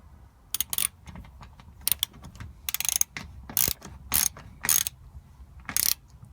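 A ratchet wrench clicks in short rapid bursts while bolts on the engine undertray of a VW T5 van are tightened, close and distinct, with brief pauses between each run of clicks.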